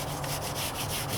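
Wet sanding the hood of a 1998 Toyota Corolla before a rattle-can white paint job, a faint steady rubbing hiss with a slight back-and-forth pulse of strokes, close and alone.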